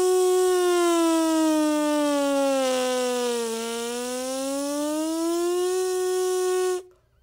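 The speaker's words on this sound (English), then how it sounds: "Now listen as Katie demonstrates this again on the mouthpiece" A horn mouthpiece buzzed alone sweeps in a smooth siren glissando, a steady reedy tone sliding down and back up in pitch over several seconds before stopping cleanly.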